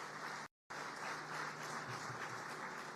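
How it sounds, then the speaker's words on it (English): An audience at a live event gives a round of applause, a steady, even roar of many hands clapping throughout, fairly distant and soft, broken only by a brief cut to silence near the start. "A round of applause to Derek, Matt, Peter Simon, every individual who had a hand in this."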